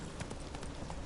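Hooves of Roach, the horse in The Witcher 3, clip-clop in a steady galloping rhythm at close range, loud and continuous with no voices over it.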